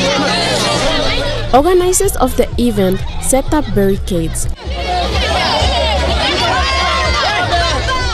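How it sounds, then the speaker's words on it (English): Big crowd of children and parents gathered at an outdoor event at an oval, a continuous babble of chatter and shouts that carries on around a narrator's voice in the middle. "By 9 o'clock, there already was a big crowd."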